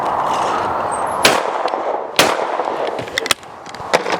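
A Browning XS shotgun fires at clay targets, two sharp loud blasts about a second apart echoing outdoors, followed by fainter distant reports and a few clicks against a steady background rush.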